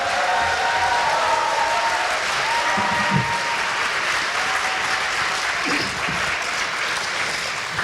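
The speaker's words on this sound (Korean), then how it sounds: "여러분 박수로 환영해 주시기 바랍니다" A large audience at a year-end foundation event applauds steadily to welcome a guest author onto the stage, dense sustained clapping filling the hall with a few louder cheers rising through it.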